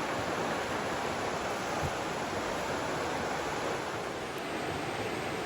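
Steady, full rush of the Chattooga River flowing beside a sandy beach campsite, an even broadband wash of moving water that stays loud and unbroken throughout, with no voices.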